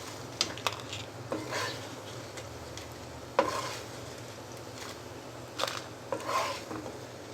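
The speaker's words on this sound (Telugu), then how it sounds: "ఆయిల్ వేడైన తర్వాత ఎండుమిరపకాయలు ఫ్రై చేసుకోవాలి." Dried red chillies fry in hot oil for gongura coconut chutney, giving a low steady sizzle broken by a few sharp clinks and scrapes of stirring against the pan.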